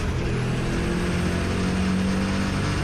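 Turbocharged 1UZ drag race car launching hard at a drag strip with wheel spin, a steady loud engine roar and droning exhaust held throughout, with no talk.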